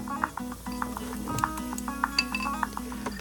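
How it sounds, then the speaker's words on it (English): Cinnamon and sugar are mixed together in a bowl, with a utensil clinking steadily against the dish in a quick, even rhythm of light taps over a low background hum. "And then I'm going to add some cinnamon to my sugar and mix that together."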